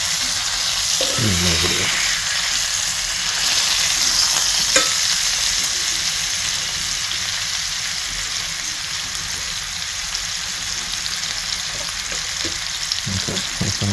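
Chicken thighs fry in a pan with a steady broadband sizzle, and short scrapes and clatter come as the pieces are flipped. A voice speaks briefly over the continuous frying.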